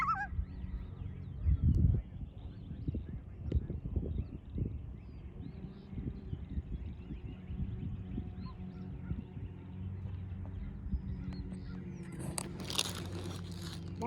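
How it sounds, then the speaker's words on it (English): Loons calling over a lake on a sunny day, their honking, wavering cries rising above a steady low outdoor rumble and occasional knocks, heard from a moderate distance with no talking. "Listen to these loons."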